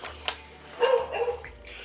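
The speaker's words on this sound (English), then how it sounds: "Sorry if you can hear my dog in the background" A dog barks in the background of a room, a few faint, brief yaps and whines well behind the space, with no speech heard.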